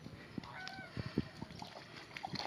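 Domestic geese honk in a few short, scattered calls at moderate distance, mixed with faint rustling and outdoor background noise.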